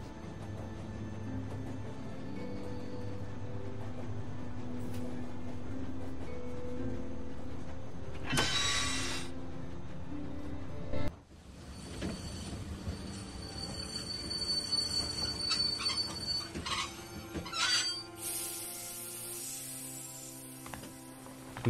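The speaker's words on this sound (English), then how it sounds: "And thus stops the train" A train in The Walking Dead video game slows to a halt: steady low rumble and clatter, a hiss burst, then a sharp clunk followed by high squealing brake noise as it stops, with no talk.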